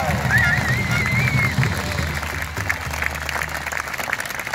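A large outdoor rally crowd in Brisbane claps and cheers for firefighters, a broad sustained wash of applause with raised voices and a few whistles, loud and continuous throughout.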